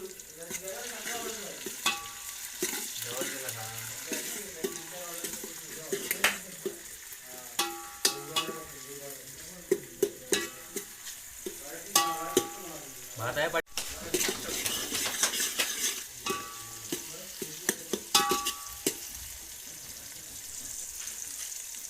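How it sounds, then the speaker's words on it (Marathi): Tomatoes tipped onto frying onions in a pan and stirred, sizzling under intermittent clanks and scrapes of the spoon, with voices talking over much of the cooking. "आणि आता टाकतो टमाटा टोमॅटो टाकतोय"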